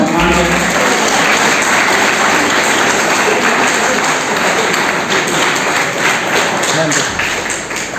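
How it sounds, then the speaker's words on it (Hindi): Audience applause fills an auditorium during a felicitation at a Hindi-language medical talk, sustained dense clapping, loud and continuous before tapering slightly at the end. "तालियां बजती है।"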